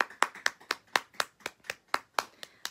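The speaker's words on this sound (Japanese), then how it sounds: "皆さん盛大なる拍手をお願いします。" An audience claps together in an even rhythm of about ten sharp, distinct claps, heard close with nothing else around.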